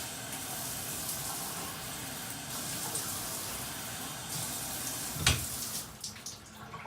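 Water gushing from a Pulse Kauai III handheld shower spray, a steady hiss of running water at close range that shifts briefly near the end.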